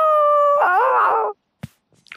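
A cartoon dog lets out a loud, close howl that rises and wavers for about a second, then cuts off, followed by a brief soft knock.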